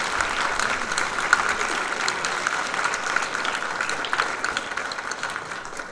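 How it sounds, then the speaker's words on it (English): Sustained applause from a school audience honoring students, dense steady clapping at even loudness throughout with no talking. "Let's give all those students a round of applause for their work."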